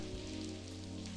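Steady rain falling in the point-and-click adventure game Blackwell Convergence, a continuous soft patter alone under a low constant hum, with no talk.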